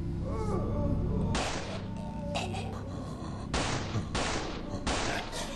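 Gunfire in a horror video game as the player aims for a headshot: a series of loud, sharp shots spaced a second or so apart, with a faint voice under the first moments.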